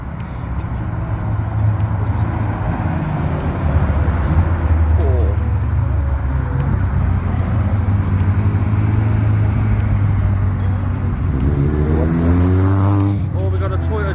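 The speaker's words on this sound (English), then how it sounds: "we've got a Honda NSX coming." A Honda NSX sports car arrives at a car meet, its engine rumbling steadily and close by beneath crowd chatter, with the pitch rising near the end as the car pulls in.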